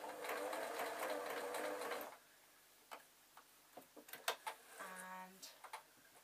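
Sewing machine stitching the foot onto a zebra puppet, running steadily for about two seconds before stopping, followed by scattered soft ticks and handling clicks.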